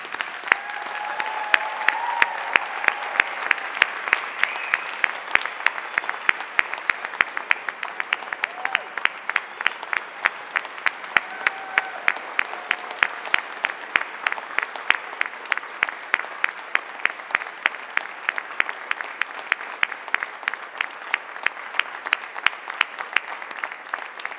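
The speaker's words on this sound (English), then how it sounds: "please join me in congratulating all of the graduates with your applause" A university convocation audience applauds the graduating agriculture students in a long, steady round of clapping that turns into a rhythmic, evenly spaced beat, with faint voices underneath.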